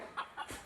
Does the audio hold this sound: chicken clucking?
yes